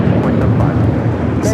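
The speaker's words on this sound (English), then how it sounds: "Cargo Lux cleared for takeoff." Cargolux cargo airplane taking off at LAX in Los Angeles: a steady, loud jet engine roar that fills the whole moment without letting up, with a person talking over it.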